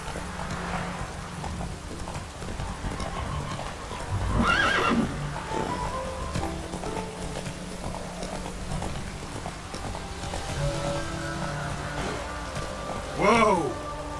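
Horse neighs twice in The Witcher 3 video game, a whinny near the middle and a louder one near the end, over steady game background sound with hooves and faint rain-like hiss; someone speaks briefly.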